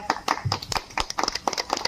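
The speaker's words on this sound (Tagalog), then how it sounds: "Palakpak." A quick run of hand claps, loud and close, rapping out a fairly even rhythm for about two seconds with a faint voice murmuring underneath.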